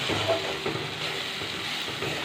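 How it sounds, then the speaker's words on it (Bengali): Masala being stirred and fried in a pan for egg malai curry gives a soft, steady sizzle and hiss with faint stirring scrapes, close and fairly quiet, with no one talking. "এবার আমি এটাকেও আবার একটু নাড়াচাড়া করে নেব মশলাটাকে একটু কষিয়ে নিলাম"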